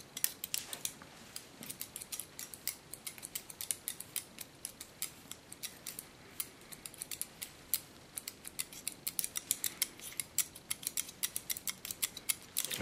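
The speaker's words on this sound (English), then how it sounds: "I love the sounds of scissors." Scissors snip through a short haircut in a salon in quick, crisp bursts of close metallic clicks, steady and unaccompanied by any talk.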